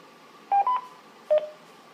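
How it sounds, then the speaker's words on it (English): Two short electronic beep tones from a radio repeater's courtesy tone on a Quantar with a CAT 1000 controller, a quick double chirp followed by a single beep, clean and close against a quiet hiss. "if we key up, we should hear our courtesy tone drop"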